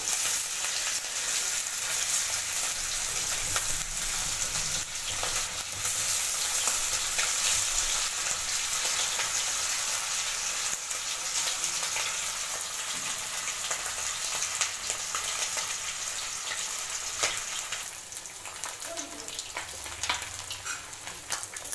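Ilish (hilsa) fish frying in a pan, a steady, dense sizzle of hot oil that holds loud and unbroken throughout, with faint crackles and no talking.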